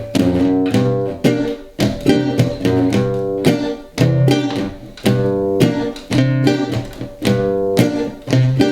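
A guitar plays a swinging syncopated Charleston chord rhythm with a bass line moving underneath, short punchy hits repeating in a steady groove.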